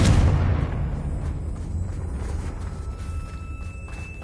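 A Confringo blasting spell explodes in Hogwarts Legacy with a sharp, booming hit. A gritty rumbling decay follows, with faint sparkling crackles and a thin lingering tone. No one speaks.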